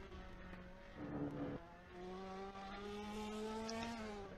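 A Ferrari Challenge race car laps the Silverstone circuit in a Trofeo Pirelli race. Its engine holds a steady high-revving drone, rises through gear changes and sounds as if heard from onboard or nearby.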